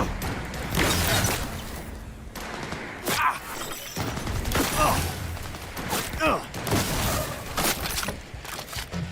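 Gunfire from Cyberpunk 2077: Phantom Liberty, with repeated sharp shots and thuds scattered through a busy game mix, partly under a talking voice.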